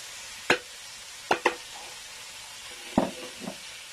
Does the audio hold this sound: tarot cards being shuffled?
no